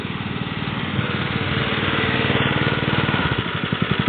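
Small engine idling steadily at normal speed beside a water well while water keeps flowing, a close, even, buzzy putter with a fast regular pulse and no revving.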